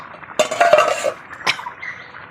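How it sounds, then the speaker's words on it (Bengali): A metal lid comes off a pot of basanti pulao with a bright clattering clink, followed a moment later by a second short metallic knock, close by with no voices. "এবার আমি ঢাকাটা তুলে নিচ্ছি"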